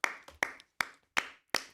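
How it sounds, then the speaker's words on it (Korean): Six sharp hand claps in an uneven rhythm, close and crisp with short gaps between them, during a lively Korean-language live variety broadcast. "박수."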